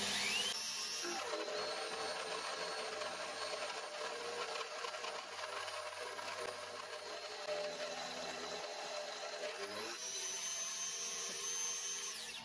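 A small milling machine hogs out material from the center of a workpiece, with a steady high-pitched whine and grinding cut that shifts in tone partway through, faint and with no talk.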